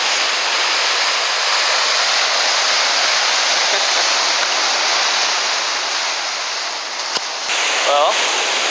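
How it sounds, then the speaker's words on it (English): Steady, broad roar of big ocean waves washing in continuously on a beach, loud and close, with a brief knock near the end. "Well, thank you, big waves."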